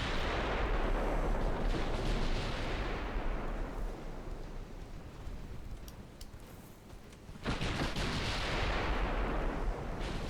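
Warship guns firing in a naval dreadnought battle game, heavy booming salvos rolling into long rumbling decays, one big blast at the start and another around the middle, loud with no talking.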